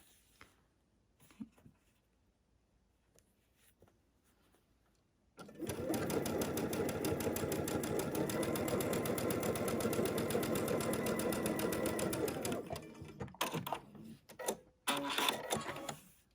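A sewing machine pieces quilt blocks for a butterfly quilt, running steadily and loudly for about seven seconds after a quiet stretch, then stopping with a few short bursts and handling noises.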